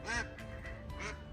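A broody hen duck on a farm gives two harsh, nasal quacks about a second apart, close and loud, with softer rustling between them.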